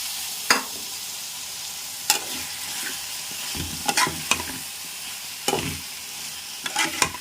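Cauliflower curry with cashews stirred and frying in a pan, a steady soft sizzle broken by several sharp scraping strokes of the spoon at irregular intervals, close up with no talking.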